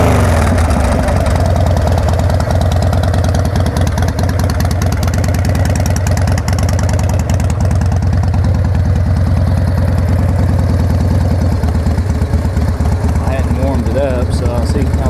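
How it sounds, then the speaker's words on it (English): A Harley Davidson Heritage Softail with a Mikuni carb and Vance & Hines exhaust idles loud and close, a steady low throbbing rumble for the whole stretch, with speech mixed in. "so I'll see how low I can make it idle for you."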